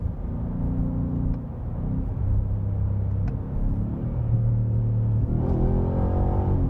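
A 2025 Ford F-150 Raptor R with its 5.2L engine accelerates hard in paddle-shift mode, a loud steady low rumble climbing through gears with pitch rising after each shift, heard close from inside the cab.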